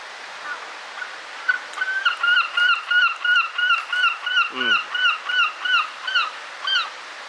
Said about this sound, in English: Seagulls up there looking at me.